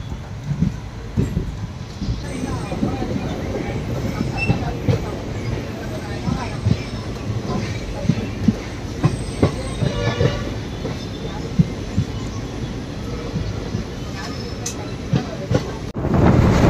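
A Palakkad–Chennai superfast express train rumbles steadily along the rails with rhythmic wheel clatter and occasional squeals, heard up close, with faint background voices.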